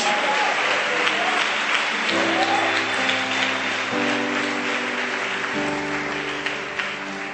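A church congregation applauds during a Sunday service, with sustained, loud clapping throughout while held organ or keyboard chords shift underneath.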